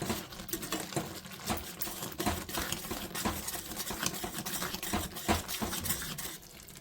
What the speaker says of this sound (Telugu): ఇప్పుడు కలుపుకుందాం.